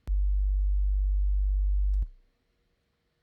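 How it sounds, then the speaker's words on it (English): A sine-wave bass tone for minimal techno holds steady and loud for about two seconds, then cuts off abruptly and leaves near silence with a faint click at the end. "was designed using a sine wave as the initial source."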